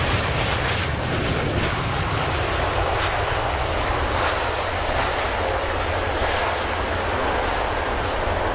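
Airliner taxiing at London Heathrow Airport in the evening, a steady broadband jet-engine roar with a deep low rumble that stays loud and constant throughout, with no voices.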